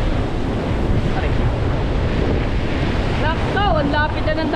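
Sea waves roll in close to the shore in a steady, loud wash, with strong wind buffeting the microphone throughout; a few faint voices come in near the end.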